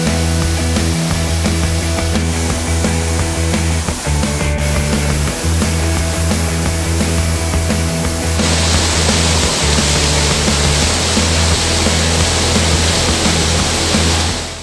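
Broad waterfall on a tiered cascade with a bend in its course, roaring steadily in a dense, unbroken rush of falling water, loud and close, alone with no voices.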